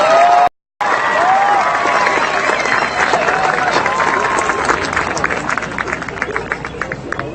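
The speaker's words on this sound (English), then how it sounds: "Let's give a round of applause to the students graduating with a Master's of Science and Physician Assistant Studies." Audience applause for graduates receiving Master of Science in Physician Assistant Studies degrees at a commencement ceremony, sustained clapping with some cheering and crowd murmur in a large hall after a brief dropout at the start.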